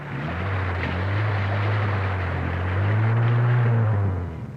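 Car engine rumbling steadily as it drives through a water splash, a loud low drone with broad rushing wash over it, rising slightly in the second half, no voices.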